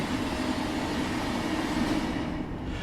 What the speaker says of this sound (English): the AC traction motor sounds, I must say, are absolutely gorgeous